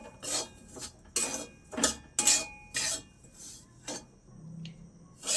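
Cashews and semolina toast in ghee as a spoon scrapes and stirs the pan in about eight rhythmic strokes, each a brief rasping scrape separated by quiet gaps, close and alone.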